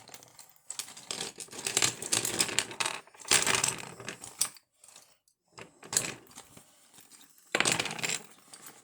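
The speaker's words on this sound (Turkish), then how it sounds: "Şimdi de kalemliğini de atalım." A pencil case is thrown and its contents scatter in a flurry of clattering, rattling and crinkling bursts, several separate clusters of impacts close to the microphone with short pauses between them.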